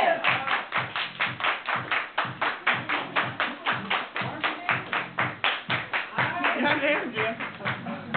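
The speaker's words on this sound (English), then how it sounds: "Everybody clap your hands!" Steady rhythmic hand claps from a group doing the Cha-Cha Slide dance, about three per second, loud and continuous throughout with voices mixed in.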